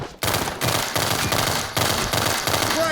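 A 60-round pistol in World War 3 fires a rapid, sustained burst of loud, close shots with short breaks in between, nearly continuous throughout.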